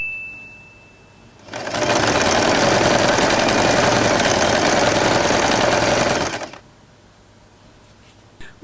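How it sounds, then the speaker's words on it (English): A sewing machine stitches elastic into an organza scrunchie, running in one steady, loud, continuous burst of about five seconds, with quiet moments before and after. "Then stitch to secure the elastic."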